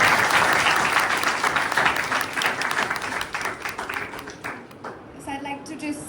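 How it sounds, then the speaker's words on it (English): Loud audience applause after a speaker is introduced at an interaction event, dense clapping that starts strong, gradually thins and fades, then ends with a few tonal sounds and a voice near the close. "Could we have a huge round of applause?"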